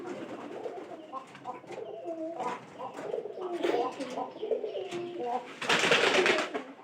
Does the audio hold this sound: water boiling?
no